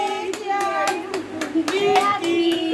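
A group of guests at a children's birthday party claps in a quick, uneven burst of about nine or ten close hand claps, with a voice mixed in.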